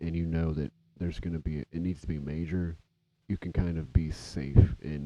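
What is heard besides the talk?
No everyday noises stand out.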